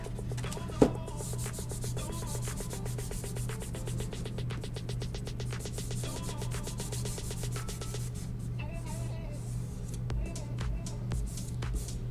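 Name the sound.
sanding the edges of a DIY craft piece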